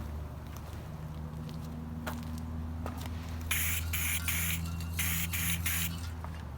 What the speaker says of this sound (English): turns the spray nozzle into just like a paint gun